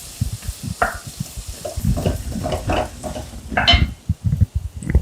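Chopped onions sauté with cumin and asafoetida in a pan for dal, giving a close, steady sizzle broken by irregular scraping stirs of the spoon.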